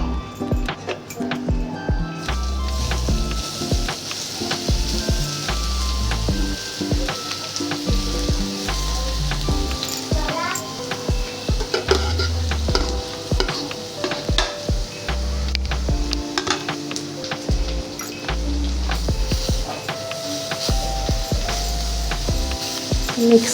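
Grated carrot for gajar ka halwa fries in a pan on the gas, a steady loud sizzle under wooden stirring and occasional clinks, with background music playing throughout.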